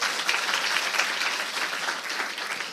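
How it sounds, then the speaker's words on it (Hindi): A church congregation claps in praise during a sermon, a dense and sustained wash of many hands heard at an even level, with no speech. "तालियां बजाएं अपने परमेश्वर के लिए।"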